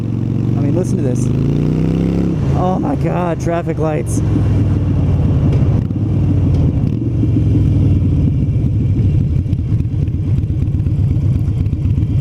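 A Harley-Davidson Sportster with Vance & Hines pipes sits idling at traffic lights, its steady, throbbing exhaust rumble loud and near throughout, with someone speaking briefly early on.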